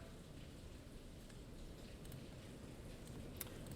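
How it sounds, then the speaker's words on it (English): Steady rain falls in the background as a faint, even hiss with occasional soft ticks of drops, continuing unchanged throughout with no talking. "you hear that rain in the background."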